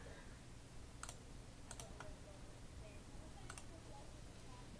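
A computer mouse clicks a few times, quick sharp ticks in short bursts against a quiet, hissy room background, fairly close but faint.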